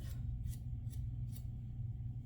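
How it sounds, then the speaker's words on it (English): Scissors snip through hair along the neckline of a pixie cut, about four crisp, evenly spaced cuts close up over a low steady hum. "That's just a scissor cut to kind of give a nice taper down below on that neckline."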